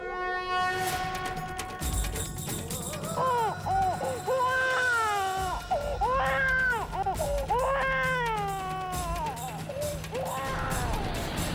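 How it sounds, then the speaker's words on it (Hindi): A high, wailing cry rising and falling in repeated bursts, like a distressed infant, heard over a low rumbling background. "बच्चे की रोने की आवाज सुनाई दी मुझे।"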